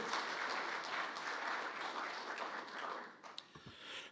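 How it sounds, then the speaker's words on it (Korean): Audience at a policy debate forum applauds as the next speaker is introduced, giving a dense, even sheet of clapping that tapers off at the end. A few thuds follow, likely a microphone being handled. "큰 박수 부탁드리겠습니다."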